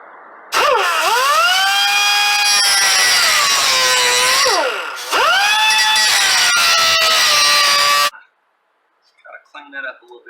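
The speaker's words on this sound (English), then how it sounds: "Clean that up a little bit with the grinder." Angle grinder smoothing a freshly cut metal edge on a 2020 Yamaha Wolverine X4 side-by-side near the roll cage: two loud, close whining bursts that sweep in pitch as the disc bites and eases, then it stops.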